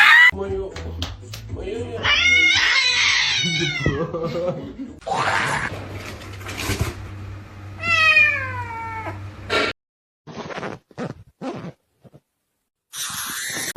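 Several cats meowing loudly and close, with drawn-out, wavering calls that rise and fall and sometimes overlap, followed by shorter broken sounds and moments of silence; people talk in the background.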